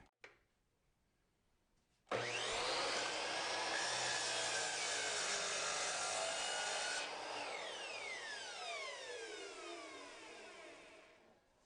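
A bandsaw slices thin 1/8 inch wooden planks in a woodshop, a loud steady rasping cut of about five seconds that starts abruptly, then a long whining ring-down as the blade coasts to a stop.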